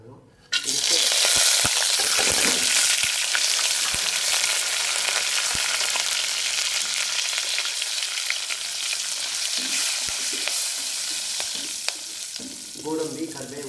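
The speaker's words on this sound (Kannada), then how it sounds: "ಗೋಡಂಬಿ, ಕರಿಬೇವು, ಜೀರಿಗೆ, ಹಿಂಗು ಎಲ್ಲ ಹಾಕಿ 1 ನಿಮಿಷ ಹೀಗೆ ಬಾಡಿಸ್ಕೋಬೇಕು" Cashews, curry leaves, cumin and asafoetida frying in ghee for pongal, a loud steady crackling sizzle with scattered stirring clicks, tapering slightly near the end.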